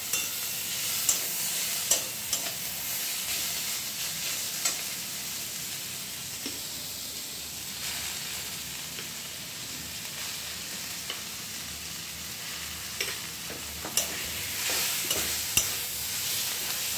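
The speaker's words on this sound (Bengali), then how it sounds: "তারপর কড়াইতে আমরা বেটে রাখা ডালটা দেব।" Ground lentil paste frying in a wok with cabbage, a steady soft sizzle broken by repeated scraping knocks of the spatula as it is stirred, no voices.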